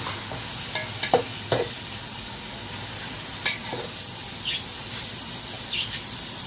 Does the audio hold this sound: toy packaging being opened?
no